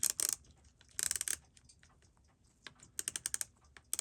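The mechanism of a Junghans J30BZ 17-jewel one-button airplane cockpit chronograph clock on a workbench clicks over in quick, crisp bursts separated by short pauses, quiet and close-up.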